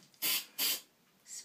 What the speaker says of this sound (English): spray a little.